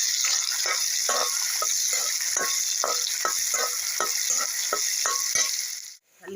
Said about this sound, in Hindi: इसे हल्की सी सॉफ्ट होने तक हम इसे इस तेल में भून लेंगे